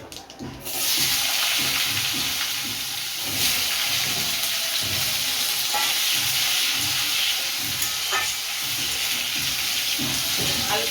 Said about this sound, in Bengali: আলুটাকে আমি একটু ভাজা ভাজা করে নেবো